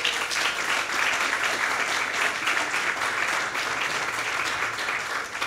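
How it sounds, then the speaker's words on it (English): A round of applause from the audience at a governor's bill announcement event, loud dense clapping sustained evenly across the clip with no talking. "Let's give him a round of applause."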